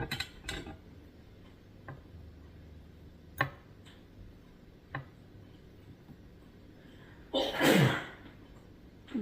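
A single sharp sneeze bursts out near the end, close and loud, while someone wraps ripe bananas; faint ticks and clinks of handling sound beforehand in a quiet room.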